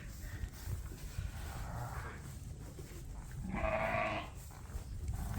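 Ewes bleat inside a lambing barn, a quiet indoor scene with a soft call early on and a louder, clearer bleat near the end over low background rustle.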